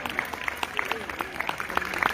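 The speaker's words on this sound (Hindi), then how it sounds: "तालियां जोरदार।" Applause from a crowd at a live yoga event, steady clapping with distinct sharp claps and voices talking underneath.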